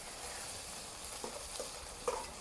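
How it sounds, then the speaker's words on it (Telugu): Brinjal (eggplant) pieces frying and being stirred in a pan for a village-style tomato curry, a steady close sizzle with a few soft scraping stirs near the end. "వంకాయ తిప్పుకోవాలి."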